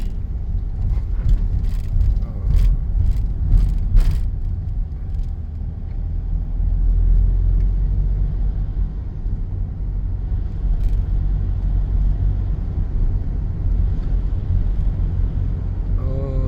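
Car traffic on the streets of Chiang Mai, Thailand, heard as a constant heavy engine rumble with passing vehicles, a few sharp clicks near the start and no speech.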